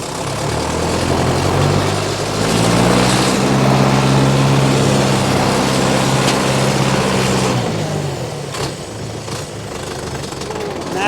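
A 62 HP 1979 John Deere 310A backhoe loader engine runs steadily nearby, a loud low idling rumble that holds even for most of the stretch and then eases slightly toward the end.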